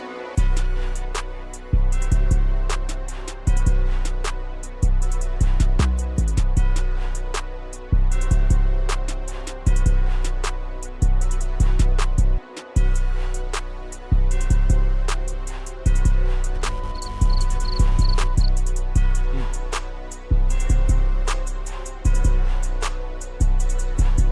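A steady electronic beat made in FL Studio loops with punchy kicks and snares in a regular rhythm, layered with synth tones and occasional bright percussive hits.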